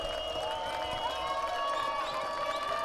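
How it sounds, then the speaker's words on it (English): Football crowd at an RPI game cheering the defense, a steady distant roar of voices, fairly faint, with some tonal whistling or horn-like notes above it. "And now the RPI crowd getting the defense up here."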